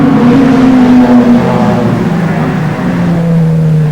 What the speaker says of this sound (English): There's just a snake of cars winding their way around the mountain.